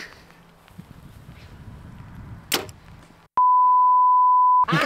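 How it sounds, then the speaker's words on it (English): An archery release aid gives one steady electronic beep lasting over a second, loud and close, following quiet outdoor shuffling and a brief rustle at a shooting range. "I hate the beep, the dink."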